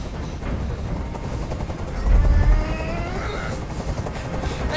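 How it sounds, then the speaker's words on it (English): A helicopter drones steadily in the Detroit: Become Human hostage scene, its rotor noise mixed with a dense rumble and occasional gunfire-like bursts, with a heavier low thump midway; no one speaks. "I can't stand that noise anymore. Tell that helicopter to get out of here."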